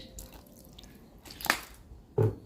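Fish sauce drips into a Thai frog pon (spicy frog dip) in a home kitchen, giving a couple of short, soft liquid splats over quiet background room noise, with no talking.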